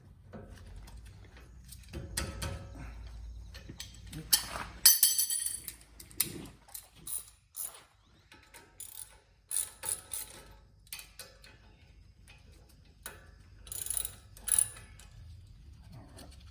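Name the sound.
17 mm breaker bar loosening brake caliper pins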